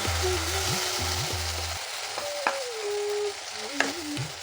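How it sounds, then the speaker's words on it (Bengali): A ground cashew and pistachio paste fries in oil in a pan, giving a continuous close sizzle with short scraping stirs and a couple of sharp clinks. "এবার এটাকে ভালো করে নাড়বো"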